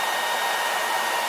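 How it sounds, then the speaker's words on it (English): A blow dryer drying hair after spraying it, running as a steady, loud, continuous whoosh with a constant airflow hiss and no pauses or talk. "the blow dryer"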